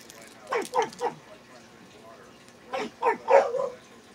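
Dogs barking indoors after a knock at the door, two close bursts of three or four sharp barks each, separated by a short quiet pause.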